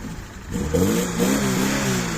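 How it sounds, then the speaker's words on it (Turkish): A parked car at a second-hand car market is revved, its engine rising from a low idle into a throaty climb and holding there, fairly close and loud, with no talk over it. "insanlar böyle gaz vererek araçlarında bir şeyler yapmaya çalışıyorlar"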